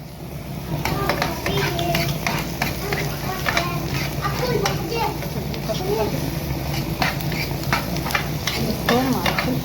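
Chopped onion and garlic sizzle and fry in hot oil while being stirred, a continuous crackling hiss with scraping utensil sounds, close and fairly loud under someone talking.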